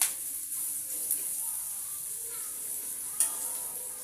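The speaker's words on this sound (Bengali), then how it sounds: "আমি পেঁয়াজগুলো লাল করে ভেজে নেব।" Onions frying in oil in a pan give a steady, soft sizzle that runs throughout at moderate loudness, with a few faint clicks and no talk over it.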